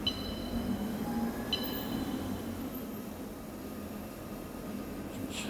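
A train rumbles through a subway station, a low steady rolling roar with faint high screeches of wheels on rail, fading gradually toward the end.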